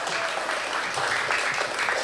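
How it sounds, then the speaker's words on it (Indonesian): Audience applause for the panel speakers at a casual Indonesian astronomy talk, a dense, even patter of clapping that fills the whole short stretch. "Boleh dong tepuk tangannya sekali lagi buat para narasumber."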